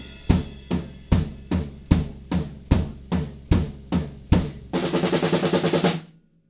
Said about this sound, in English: we've got a big snare roll coming up to that